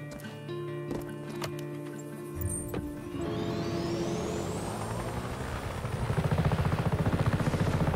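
Helicopter in the video game Just Cause 3, its rotor and engine swelling from a quiet start into a loud, rhythmic chopping whir that builds steadily toward the end, with some mechanical clanks early on.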